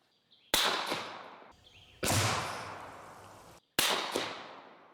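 Silenced .50 caliber Desert Eagle fired at a target about 100 yards away outdoors: three separate sharp cracks spaced over several seconds, each followed by a long fading echo tail.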